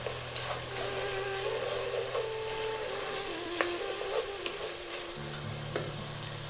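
Chopped onion, garlic and ginger fry in a pan for a Middle Eastern beef and eggplant dish, giving a steady close sizzle with scattered stirring clicks and scrapes throughout, no voices.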